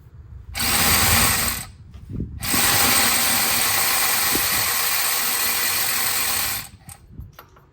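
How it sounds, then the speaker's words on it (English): A power ratchet or impact tool spinning a nut off a bolt during a BMW differential insert install, two loud continuous whirring bursts separated by a brief pause, with light clinks afterward. "I'm gonna grab my adjustable wrench here, get on this bolt so we can hold it steady."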